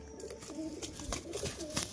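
Deshi Giribaz pigeons, including female birds, coo in soft, low repeated calls at close range, with scattered clicks and faint background noise.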